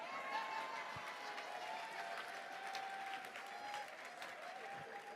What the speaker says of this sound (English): and that's how you clap for me